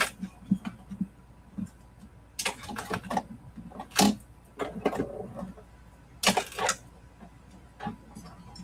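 A sewing machine stitches clear vinyl at a 3 mm stitch length in short, clattering bursts separated by pauses, heard close and without talk.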